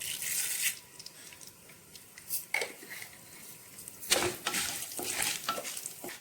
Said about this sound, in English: now I'm adding in 1 tablespoon of fenugreek